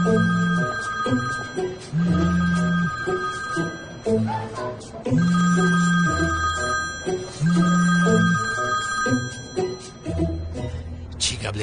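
A landline telephone rings in a home, its bell sounding in repeated double bursts with short pauses between them, fairly loud and close, with some faint background noise underneath.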